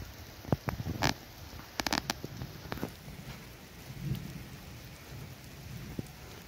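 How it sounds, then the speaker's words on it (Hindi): Rain falls on water near a village in a wildlife area, a steady patter with scattered sharper drops and a few louder splashes, with no voices. "ये बारिश की बूंदें गिर रही हैं इसमें अभी"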